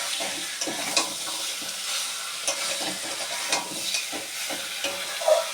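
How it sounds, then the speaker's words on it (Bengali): Potatoes frying and being stirred in a pan for mutton curry, a steady sizzle broken by repeated scraping stirs of the spoon, close and moderately loud, with no talking. "আলুগুলো দিয়ে আমি মিনিট 2 কষাবো, কষিয়ে নিয়ে আমি প্রেসার কুকারে দিয়ে দেবো।"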